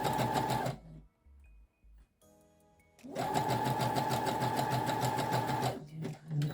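A home sewing machine stitches a zigzag with a fast, loud mechanical rattle in two long bursts, separated by a pause with light clicks and adjustments; no speech.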